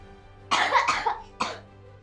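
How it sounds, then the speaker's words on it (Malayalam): A child coughs twice at close range: a harsh double cough followed by a single shorter one, with a quiet background and no talking. "ഇപ്പം ചുമക്കണണ്ടില്ലേ."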